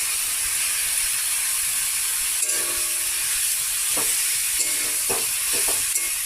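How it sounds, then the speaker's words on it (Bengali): Boiled jackfruit pieces drop into a frying spice paste in a pan, giving a steady sizzle broken by a few soft scraping and clattering bursts toward the end, close and without talk. "এখন আমি সিদ্ধ করে রাখা এঁচড়গুলো এর মধ্যে দিয়ে দিই"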